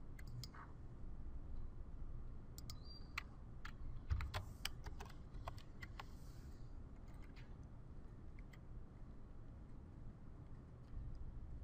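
Typing an application ID on a computer keyboard: a run of light, irregular key clicks over a steady low hum, fairly close and continuous throughout.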